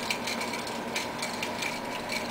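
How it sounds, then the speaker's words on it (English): Fresh Parmigiano Reggiano chunks grated in a Mouli rotary grater, a steady dry scraping and ratcheting churn that carries on evenly and close by without pause, no voices present. "I have 2 chunks here in the Mouli grater. Just grate that fresh cheese over it."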